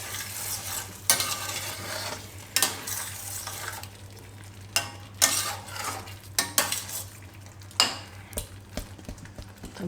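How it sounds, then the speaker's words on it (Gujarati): A spoon stirs tomato paneer curry in a sizzling pan on the stove, with repeated scraping clinks against the metal over a steady frying hiss and no speech. "તો આને હવે મિક્સ કરી દઉં."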